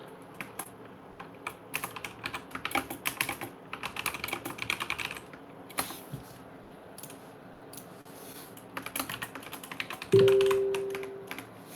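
Computer keyboard being typed on in quick irregular bursts of close, crisp key clicks, pausing briefly, with a short electronic tone near the end.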